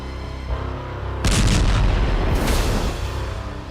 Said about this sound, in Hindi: जिसमें एक मिसाइल आते दिख रही है और उसके बाद धमाके की रोशनी नजर आती है।